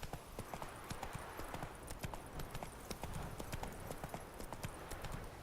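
Roach, Geralt's horse in the video game The Witcher 3: Wild Hunt, trots at a steady pace, hooves clip-clopping in a quick, regular rhythm, fairly quiet against faint background ambience.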